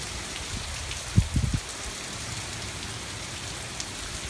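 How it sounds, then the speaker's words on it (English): Wind-driven sideways rain pours steadily during Hurricane Matthew, a dense continuous hiss with a few low thumps early on and no voices. "See the rain totally sideways"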